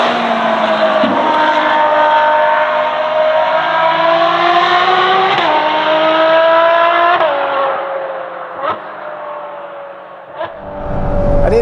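A Novitec-tuned Ferrari 12Cilindri V12 revs loudly and close, its pitch climbing smoothly through a long pull, then dropping back in a few sharp blips and lifts with crackles near the end.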